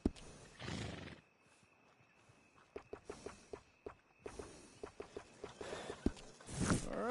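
A horse in the Red Dead Redemption 2 game whinnies loudly twice, once at the start and once near the end, with a run of steady hoof clops on hard ground in between.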